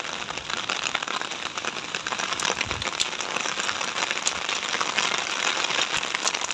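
Steady rain falling outdoors on a cold, wet afternoon in Korea, a constant dense hiss of drops with occasional sharper patters, fairly close and moderately loud, with no talking.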